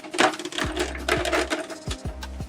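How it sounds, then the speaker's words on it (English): A series of sharp plastic clicks at irregular intervals as Canon PIXMA iP1800 printer cover latches snap into place, close by, over a steady low mechanical hum. "press and push them forward until you hear the latches click firmly into place"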